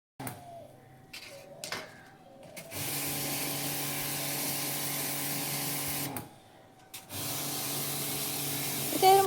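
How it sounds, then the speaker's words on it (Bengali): Pressurized water spray washing an air-conditioner outdoor unit hisses in two long, steady bursts with a short pause between, over a constant mechanical hum, close and fairly loud. "সেই পিচকিরির মতন দেখো এটা দিয়ে জল আসছে, দিয়ে সেই জলটা দিয়ে সব ওয়াশ করছে"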